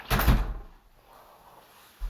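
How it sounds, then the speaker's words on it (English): A bedroom door closing gives a short, close wooden thud with a rattling burst, then quiet room tone and a soft low knock at the end. "Me closing my bedroom door."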